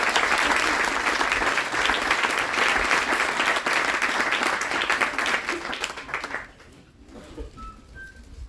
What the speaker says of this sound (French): Et on peut l'applaudir bien fort.